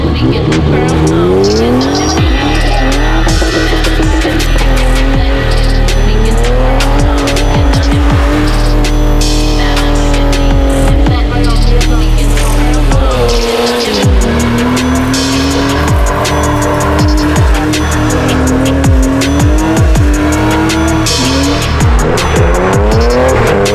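A car spins its tires in a burnout contest at an abandoned airfield, a loud, sustained squeal wavering over a steadily roaring, revving engine for the whole stretch, with no one talking.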